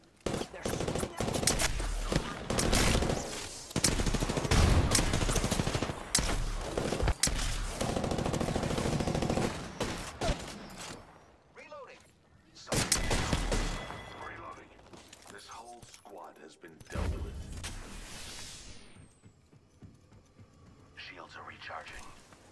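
Rapid automatic gunfire bursts in the video game Apex Legends, loud and repeated in clusters with thumps between them, while a voice talks over the action.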